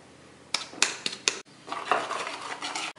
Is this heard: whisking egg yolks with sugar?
yes